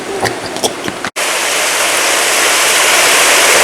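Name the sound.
waterfall with turtles in the water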